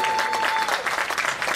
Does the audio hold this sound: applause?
yes